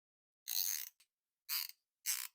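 A vintage ratchet, originally 3/8-inch and converted to a 1/4-inch drive, is turned in three short, separate bursts of fine clicking, close and clear against silence.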